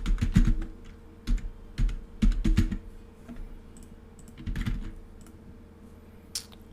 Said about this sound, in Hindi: यहाँ पर मैं टाइप कर रहा हूँ।